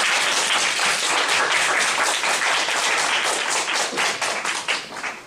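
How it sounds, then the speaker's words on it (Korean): Sustained audience applause at a youth policy forum closing ceremony, honoring the organisers and judges; thick, even clapping that thins out and fades near the end. "다시 한번 박수 부탁드리겠습니다"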